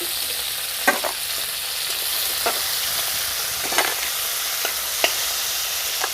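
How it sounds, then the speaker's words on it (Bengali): Crab pieces frying in hot oil while being stirred, a constant bright sizzle with scattered soft scraping knocks from the stirring, close and steady, no voices. "ভালো করে আমি কাঁকড়াটাকে তেলের মধ্যে নেড়ে চেড়ে ভেজে নিয়েছি"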